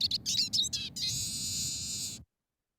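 A recorded woodland bird call plays back through a shared stream: a few quick chirping notes followed by a longer sustained trilling phrase, fairly faint, ending abruptly in silence.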